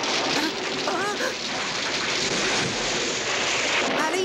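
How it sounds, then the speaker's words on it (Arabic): Steady rain falls in a Smurfs cartoon, a dense hiss of drops on surfaces, with a voice briefly speaking over it. "علي أن أختبئ من المطر."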